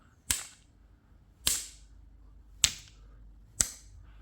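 Four sharp, separate hammer strikes hit a gold quartz rock specimen, each a loud crack followed by a brief ring, spaced about a second apart, with quiet pauses between them.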